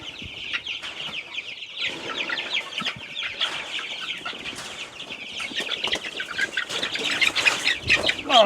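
Many chicks peeping and clucking constantly, close and busy, with occasional fluttering and handling noises.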